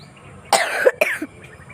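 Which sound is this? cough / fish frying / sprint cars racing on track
cough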